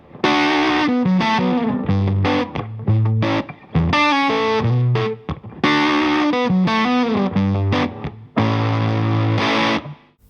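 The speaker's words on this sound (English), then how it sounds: "Germanium fuzzes for that sort of sweet, dynamic fuzz sound" Electric guitar played through a Kasleder Germanium Vintage King germanium fuzz pedal, giving a loud, thick, sustained fuzz tone across strummed chords and riffs, with brief pauses between phrases and no talking.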